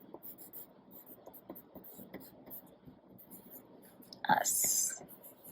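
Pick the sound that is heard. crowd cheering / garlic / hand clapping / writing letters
writing letters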